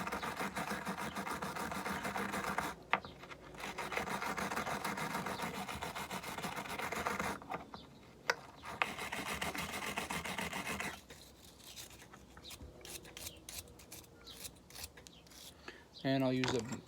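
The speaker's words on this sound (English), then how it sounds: "We use a stainless steel brush on the body of the injector." A stainless steel brush scrubs the body of a VW/Audi 2.0 TSI fuel injector, making a steady close-up rasping scratch that runs in bursts with brief pauses, quieter toward the end.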